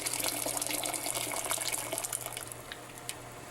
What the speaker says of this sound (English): So I'm just gonna take from that water cooker and pour it right into our pot.